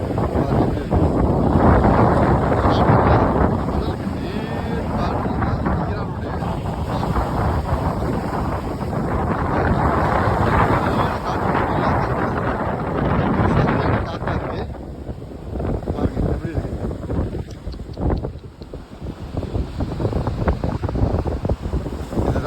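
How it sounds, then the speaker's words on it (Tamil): Strong sea wind at Khairan beach, Kuwait, buffets the microphone in a steady, loud roar, with surf and rushing water mixed in beneath it throughout. "ஏதோ காற்று ரொம்ப அதிகமாக இருக்குது கடலில்."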